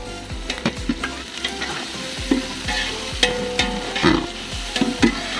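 Slit green chilies, ginger paste and lightly crushed garlic frying in a pan, a constant close sizzle broken by repeated spatula scrapes and knocks as they are stirred, with no talking.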